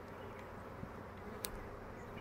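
A honeybee drone buzzes steadily during a hive inspection, a continuous low hum close by with a couple of brief clicks.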